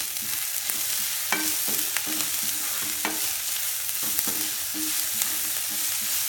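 Ginger-garlic masala fries in a pan, a steady close sizzle with a spatula repeatedly scraping and stirring in short strokes, no voices.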